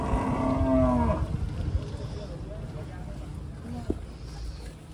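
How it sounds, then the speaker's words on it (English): Cows at a shelter for disabled cattle, several missing legs or struggling to walk, give a long, loud moo at the start, then a fainter, brief lowing call later over soft outdoor background noise and distant voices. "they're handicapped cows"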